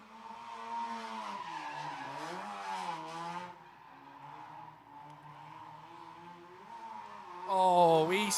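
A rotary-engined drift car runs in tandem at a drift track, its buzzing engine rising and falling while tyres screech and skid continuously at a moderate distance, ending in a louder burst.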